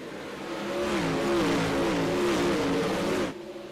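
Race cars in the iRacing video game accelerate together at a single-file restart on a Knoxville dirt track, a loud sustained engine roar with rising and wavering revs that cuts off abruptly near the end.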